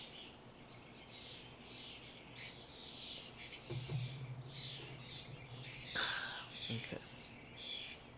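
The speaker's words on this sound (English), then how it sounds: "so weird hearing sparrows on the stream" Sparrows chirp outdoors in short, bright bursts scattered through a quiet background, fairly faint, with a soft spoken word partway through.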